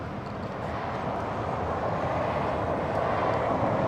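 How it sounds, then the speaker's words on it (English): A JetBlue jet airliner at LAX airport roars steadily from start to finish, a broad continuous engine rumble with no voices over it. "that is JetBlue Flight 324 en route to New York JFK"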